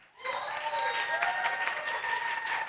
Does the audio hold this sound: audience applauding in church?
yes